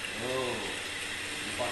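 Sponge cake batter of egg and sugar is beaten by an electric mixer in a home kitchen, giving a steady, continuous whirring buzz that stays even throughout with no pauses.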